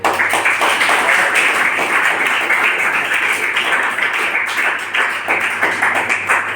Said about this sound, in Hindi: उनके लिए तहे दिल से एक बार ताली बजाइए